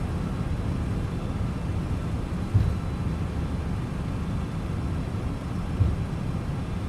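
A steady, loud roar of MD-11 jet engines in full reverse thrust in a flight simulator, a dense rumbling wash with no voices and only slight swells.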